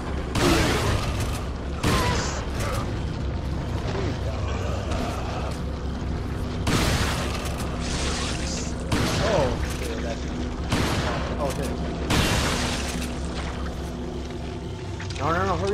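Repeated shotgun blasts in Resident Evil 4, set in a castle, boom out as broad bursts spaced a second or two apart over a busy game soundscape, with a person talking throughout.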